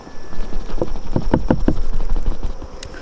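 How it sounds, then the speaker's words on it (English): A rapid series of hollow taps and knocks on a container holding honeybees, close and fairly loud, with a steady faint buzzing behind. "tap your container"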